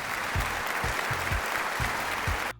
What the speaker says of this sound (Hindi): जरा एक दफा भरपूर तालियां हमारे सुपरस्टार्स के लिए भाई